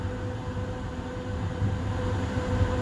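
EXO commuter train riding the Deux-Montagnes line toward Montreal in winter, heard from the rear cab as a steady low rumble with faint tonal hum and no talking.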